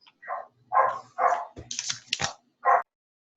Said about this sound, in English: just now I was hearing some dogs